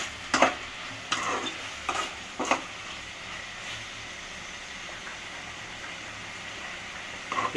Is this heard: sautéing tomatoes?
yes